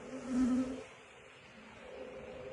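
Honeybees buzz during a late-season beehive inspection, a faint close hum that swells briefly near the start and then settles into a low drone.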